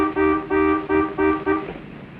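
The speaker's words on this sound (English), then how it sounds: "Honk louder, honey. She didn't hear you." A car horn honks five times in quick, evenly spaced toots, loud and close, with a brief pause between each blast and no talking.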